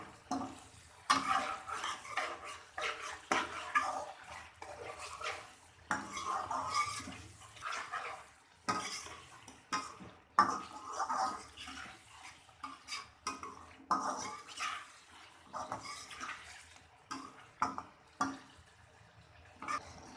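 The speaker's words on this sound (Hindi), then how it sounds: "यहाँ पर हम तकरीबन 6 से 7 मिनट तक चिकन को भूनेंगे" Chicken and garlic fry in a karahi with steady crackling sizzle, broken by frequent metallic clinks and scrapes of a spoon stirring against the pan, continuous for about twenty seconds with no talking.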